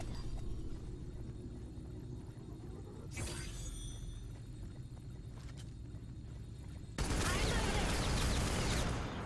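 Rapid submachine-gun fire from the T3 Arena shooter game, loud bursts near three seconds and from seven seconds to the end over a steady game hum, with no talking.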